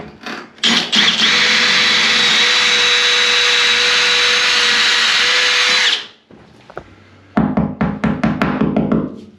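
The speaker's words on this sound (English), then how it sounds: "So all we've got to do now is get that drilled and get that clamped on." A power drill bores a hole for a shower mixer valve bracket, with a loud, steady whine for several seconds, then a brief pause and a series of short drill bursts and knocks up close.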